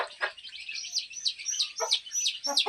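Poultry chicks cheep in rapid high chirps while eating rice, a cluster of overlapping tweets close by and without talk.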